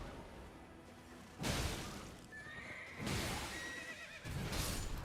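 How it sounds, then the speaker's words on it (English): A large horse in the Elden Ring video game neighs with a clear, rising whinny mid-clip, set against heavy, thudding hoofbeats and surges of rumbling game sound effects. "That was a big horse, though."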